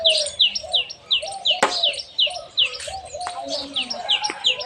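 Sparrows chirp in a quick, repeating series of short, bright calls close by, with one sharp click partway through and faint background voices underneath.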